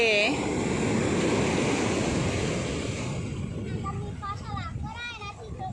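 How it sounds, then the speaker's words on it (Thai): Strong ocean surf roars steadily with broad wash and wind noise, while a voice speaks over the waves in the latter half. "คลื่นแรงมาก คลื่นแรงแบบนี้เขาจะไม่ให้ลงเล่นน้ำทะเล"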